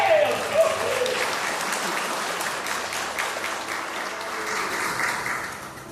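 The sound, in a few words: congregation applauding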